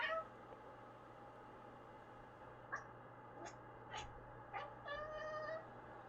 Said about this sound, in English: This cat, when it sees a bird, it starts chirping.